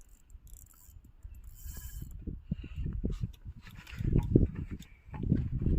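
A fishing reel on a feeder rod spins and ratchets as a large fish pulls line. The clicking, grinding mechanism swells and fades close by and grows louder toward the end.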